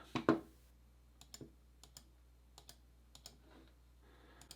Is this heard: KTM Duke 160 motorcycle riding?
no